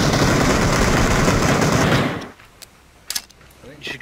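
Sustained automatic gunfire in an online shooter match, a loud dense burst lasting about two seconds, then cutting off, followed by a few isolated sharp shots.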